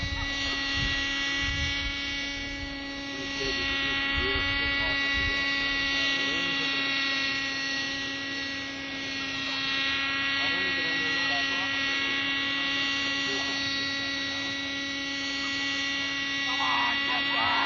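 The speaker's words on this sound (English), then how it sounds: "Here's a helicopter trying to get a balloon now." A steady mechanical whine and hum with a strong, constant tone and layered harmonics, like a small model helicopter's rotor and motor running continuously close by, trying to hit a balloon.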